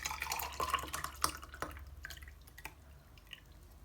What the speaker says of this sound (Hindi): दूध हमारा ठंडा हो गया था और इसे अब मैं ये गिलास में निकाल रही हूँ।